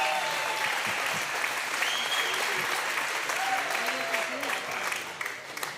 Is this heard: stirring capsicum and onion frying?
no